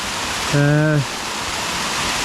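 Waterfall at Upper Pucks Glen, a steady broadband rush of falling water close by, with a brief voiced sound rising over it near the start.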